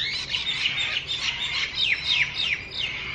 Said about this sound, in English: all the beautiful birds